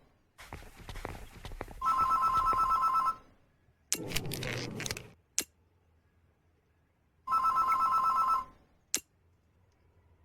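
A telephone bell rings in two bursts of rapid electronic trilling separated by a pause, with footsteps and thuds between the rings and no talk.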